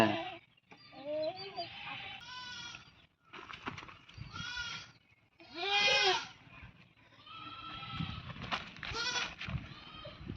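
Goats bleat loudly and repeatedly at close range in a rural field setting, calls overlapping in bursts with short gaps, while people talk between the cries.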